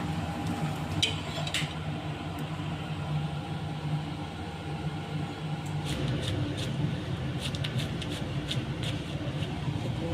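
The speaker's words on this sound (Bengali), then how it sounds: "খুব বেশি তেল দিয়ে ভাজবো না, অল্প তেল দিয়েই পরোটাগুলো ভাজছি" Spinach parathas fry in a little oil on a pan, a soft continuous sizzle with faint scraping and light clinks, fairly quiet and steady, growing slightly busier partway through.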